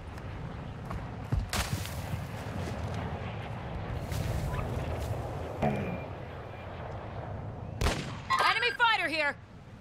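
Gunfire in the video game Call of Duty DMZ, a few sharp cracks scattered through a busy mix of game noise and talk, with a louder burst of shots near the end.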